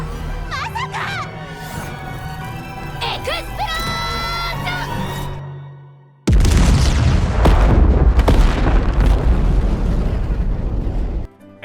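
Music plays, then cuts abruptly into a loud, sustained booming explosion from an anime movie, with deep rumble and crackling debris that lasts several seconds before stopping.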